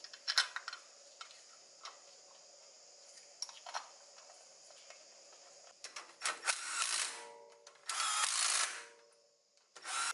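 Hub cover bolts are tightened on an Isuzu front wheel hub with a tool, heard as close ratcheting ticks and clicks, with short bursts of louder buzzing near the end.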